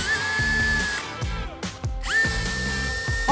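A Scell-it E-007 electric anchor setting tool runs in steady, loud whirring bursts, the motor pitch holding and then shifting as it stops briefly and starts again, close up with no talk.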